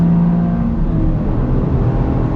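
A Toyota GR Yaris accelerating on a race track at a track day, its engine a loud, steady in-car drone with a strong low hum holding under power.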